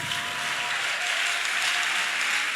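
A church congregation claps and applauds in a steady, dense wash of hand claps, sustained and fairly loud throughout with no talk over it.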